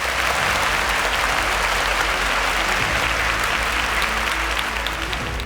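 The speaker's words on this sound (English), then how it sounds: "A round of applause." A studio audience gives a quiz show contestant a dense, steady round of applause that holds at the same level throughout, with no talking.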